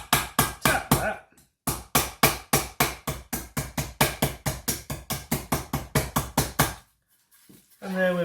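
Roof slate held over a vise is tapped hard and repeatedly to punch a hole, giving a fast run of sharp, loud knocks in two bursts of even rhythm, close by, with a brief voice at the end.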